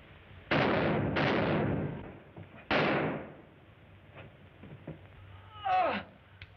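Three sharp gunshot cracks ring out at moderate distance, each with a short echoing tail, followed by softer movement noises and no speech.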